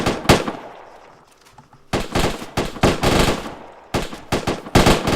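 Loud, close bursts of rifle fire crack out during a section attack drill, with rapid clustered shots separated by short pauses.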